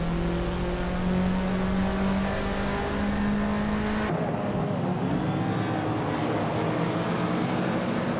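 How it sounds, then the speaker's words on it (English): A 1995 Honda Integra Type R engine in a racing video game holds a steady, loud drone that changes pitch partway through as the car keeps its pace. "Deadline F is driving a 1995 Honda Integra Type R"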